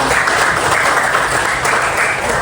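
An audience in a teacher performance test session claps steadily for a few seconds, a dense close wash of applause with no pauses.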